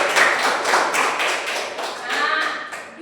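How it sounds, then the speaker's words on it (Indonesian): Children in a classroom clap together during a maths lesson on circle area, a short burst of quick, fairly loud, uneven claps with rhythmic pulses and a teacher's voice mixed in. "Tepuk tangan dong."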